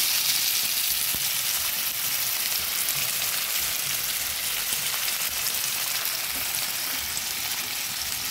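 Banana flower frying in a pan with salt and turmeric gives a steady, close sizzle that holds evenly throughout with no talking.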